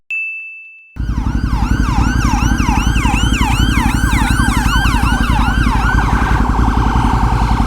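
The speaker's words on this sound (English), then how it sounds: "Where's that ambulance coming from?" An ambulance siren wails in a fast rapid cycling pattern as it moves through traffic, loud and near after a brief high tone at the start, with road noise beneath and a tone that shifts as it passes.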